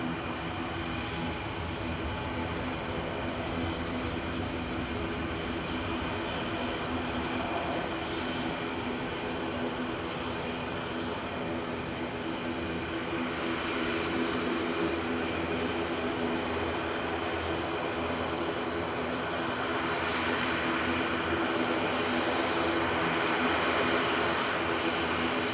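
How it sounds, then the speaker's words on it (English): A TUI airliner departing Manchester Airport for Salzburg, its engines giving a steady, broad roar that holds at a fairly constant level throughout, swelling slightly toward the end, with no talk over it. "TUI's going next to Salzburg with"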